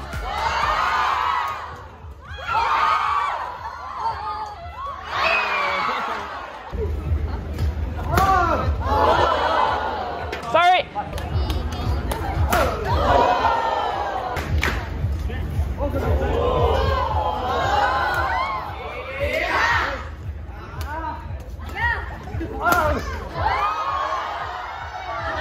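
Spectators at a badminton match cheer and shout continuously, a dense crowd roar with excited voices and occasional claps or smacks rising and falling throughout.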